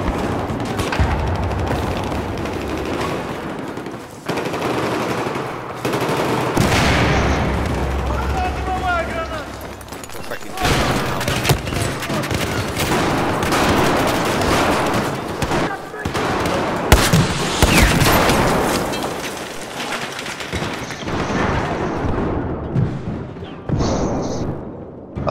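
Gunfire in a metro-set multiplayer shooter video game, with repeated sharp shots, bursts and booms scattered throughout, close and loud, while a player talks over the action.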